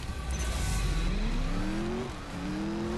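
An old race car in CSR2 Racing revs hard at the start of a drag race, its engine note climbing in pitch and shifting gears over a loud, close roar.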